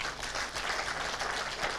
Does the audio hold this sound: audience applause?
yes